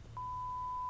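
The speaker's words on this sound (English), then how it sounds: "if I beeped it out, it would sound like this" A single steady censor beep sounds as one clean, unbroken electronic tone, starting abruptly and holding at an even level for nearly a second over faint low hum.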